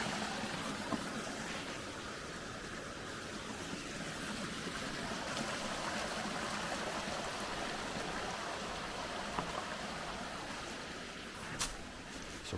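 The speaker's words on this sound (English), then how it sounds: "So plenty of water flowing there" Creek water rushes steadily over rocks along the Bartram Trail, a continuous full broadband wash that stays even throughout with no voices.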